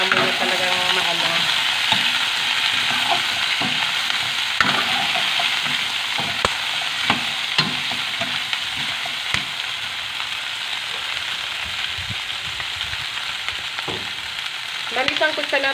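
Chicken feet sautéing in a pan with fish sauce give a steady, loud sizzle with intermittent clinks and scrapes of stirring throughout; no voices.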